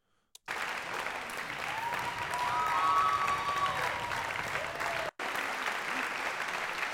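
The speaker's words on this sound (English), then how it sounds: "bring that applause up a little bit" A recorded audience applause track plays steadily for several seconds, a continuous dense wash of clapping that starts abruptly, swells slightly in the middle and cuts out for a moment before resuming.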